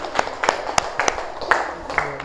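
A classroom of students claps during a group presentation, giving a brief sequence of sharp, spaced claps that sound fairly close, with no talk over them.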